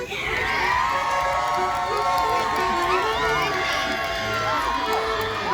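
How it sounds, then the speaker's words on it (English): A crowd at a Dirndl Day shouting contest for Best Dirndl cheers, whoops and yells continuously, a dense, loud wall of excited voices with high shrieks and hollers rising throughout. "It came down to a shouting match from the crowd cheering for Best Dirndl."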